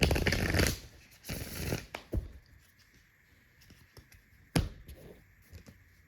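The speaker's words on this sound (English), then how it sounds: "I'll once again give cards a shuffle" Tarot cards shuffled nearby in two quick riffling bursts, then scattered soft taps and clicks as the deck is squared up.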